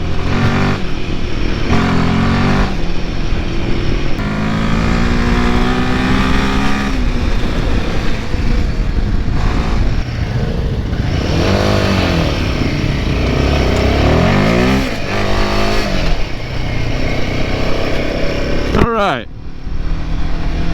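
A Royal Enfield Himalayan 450 engine rumbles and revs repeatedly while riding a bumpy, potholed dirt road, loud and close with rising and falling pitch sweeps, mixed with wind buffeting and a voice talking over it.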